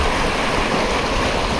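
Fast-flowing Gila River floodwater in Arizona, a loud, continuous roar of rushing water close by with steady broadband churning and no pauses.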